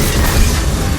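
Another car smashing into a truck in the Mass Effect 2 video game, a short loud boom with dense crunching rumble, close and continuous for about a second.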